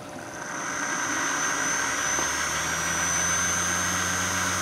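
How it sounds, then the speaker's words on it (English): An electric shunt motor with its coil shorted through a diode bogs down, giving a steady mechanical hum and whine whose pitch shifts lower partway through, with no talking. "if I short them through this diode, the motor bogs down and just comes to very nearly a stop"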